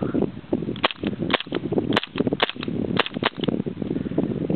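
A BW 1911 airsoft pistol fires a quick string of sharp, snappy shots with blowback, each crack close and loud with a metallic slide clack, several in rapid succession with brief gaps.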